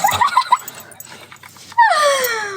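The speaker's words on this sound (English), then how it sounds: "Puppies are so funny." A puppy whimpers in short, high, wavering cries, then gives a longer falling whine, close and fairly loud indoors on a bed.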